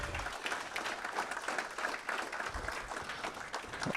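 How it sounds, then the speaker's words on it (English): Faint but continuous crowd applause at the closing of a Morehouse Thomas J. Blocker Society biology gathering, a soft, even patter of many hands heard from a distance without voices. "Please give a round of applause."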